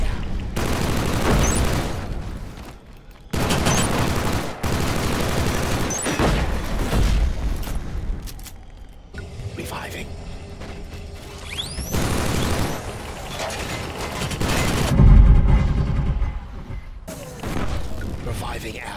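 Frag grenade thrown and exploding in the PS4 shooter Killzone Shadow Fall, amid repeated loud bursts of gunfire and booms with game voice callouts over the action.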